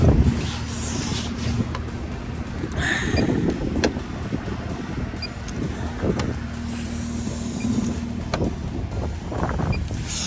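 Gusty wind buffets the microphone outdoors, a steady rumbling roar with occasional louder gusts and faint clicks.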